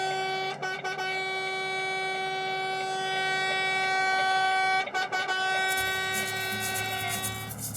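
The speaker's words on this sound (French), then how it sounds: "donc Guillaume, je pense qu'on peut mettre un petit coup de klaxon." A truck's air horn blares at a convoy rally point before the departure of a truckers' protest convoy from Saint-Gilles, one long sustained loud blast, briefly interrupted twice, with engine rumble entering near the end.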